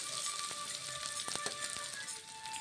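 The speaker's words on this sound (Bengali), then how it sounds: "আদা বেটে দেবো, তিন মিনিট ভেজে নিচ্ছি" Ground ginger paste and spices fry in hot oil for a mung dal and papaya ghonto, a soft, continuous sizzle with a few small crackles.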